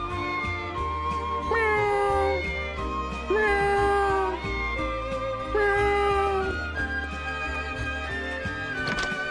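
Cat meowing in the video game Triangle Strategy while it is being petted: repeated drawn-out meows about every two seconds, loud and clear over steady game background music.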